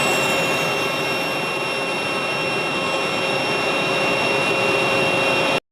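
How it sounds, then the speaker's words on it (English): A fighter jet engine roars at a military airfield, a steady, loud, broad rushing roar with a thin high whine on top that holds evenly, then cuts off abruptly. "the jet roars to life"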